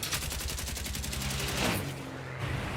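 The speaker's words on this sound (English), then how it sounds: "The remaining turret fires with all he has at the 190" A World War II bomber's turret machine gun fires at an Fw 190 in a rapid, evenly spaced burst of shots that swells, then breaks off into a rumbling, fading tail.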